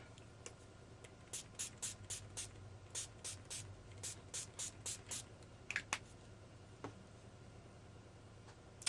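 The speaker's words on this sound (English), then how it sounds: "I'm going to glimmer mist this." Glimmer Mist is pumped onto a craft mini album in a quick run of about a dozen short, sharp spray bursts, close up and fairly quiet.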